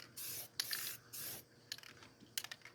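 Primer hisses from a spray can onto a van door in several short bursts, each a second or less, with pauses between. The bursts are close and moderately loud, and the later ones are choppy, quick puffs.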